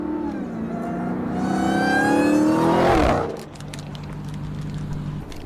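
A Dodge Hellcat's engine revs up hard, its pitch climbing steadily under acceleration, then drops off abruptly to a low idle hum.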